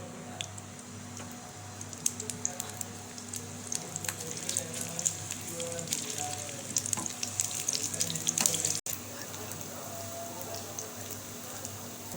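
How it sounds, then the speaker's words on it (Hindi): Chopped medium onions sizzle steadily in hot oil in a pan for a dhaba-style chana dal fry, a bright continuous crackle with scattered pops that briefly cuts out near the end, no talking. "ये मैं प्याज डाल रही हूँ और ये अच्छी तरीके से यहाँ पे फ्राई होगी"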